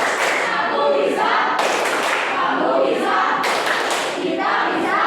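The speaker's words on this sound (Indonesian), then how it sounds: "Ayo, tepuk semangat." Schoolchildren in a classroom perform a rhythmic spirit clap together, sharp bursts of group clapping and thumps in quick patterned beats, loud and close.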